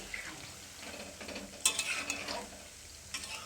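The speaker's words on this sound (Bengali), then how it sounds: "এবার হালকা লাল করে এটাকে ডুবো তেলে ভেজে নিলেই রেডি হয়ে যাবে কলার বড়া" Banana fritters frying in oil give a soft, quiet sizzle with utensil scrapes and a few brighter clinks against the pan, close by and fairly low in level.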